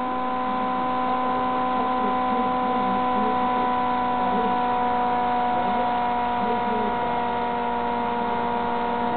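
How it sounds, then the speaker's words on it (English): Magnet motor rotor fitted with an added ferrite coil, running down at a slower speed: a steady, close, continuous hum with stable tonal lines and a faint warble, alone without speech. "But the rotor slows down, you can hear that."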